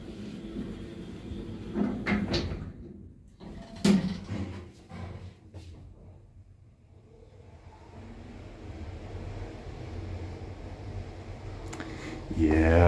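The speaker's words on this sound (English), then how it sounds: "Close the door." OTIS traction passenger elevator with automatic doors and modernized fixtures, the doors sliding shut with a soft rumble and thud at about four seconds, cab hum following, then a sharper knock near the end.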